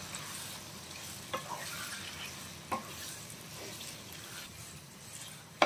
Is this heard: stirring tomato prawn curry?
yes